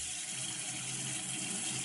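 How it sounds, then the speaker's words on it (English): Hot water runs from a sink tap with a steady, even rushing hiss, fairly faint and continuous throughout, with no voices. "At the beginning I still have a lot of pressure, and after a short time the pressure decreases more and more."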